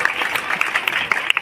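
Audience clapping at a primary school cultural program, dense, steady applause from a crowd of hands with scattered sharper individual claps standing out.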